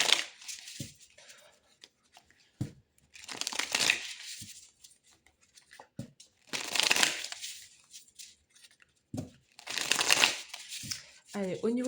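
A deck of tarot cards is shuffled in several bursts of papery riffling and rustling, close to the microphone, with a voice speaking in the pauses between the bursts.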